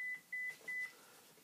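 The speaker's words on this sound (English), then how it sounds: "There goes my phone." A phone gives three identical electronic beeps in an even rhythm, clear and fairly loud against a quiet room, with no talking.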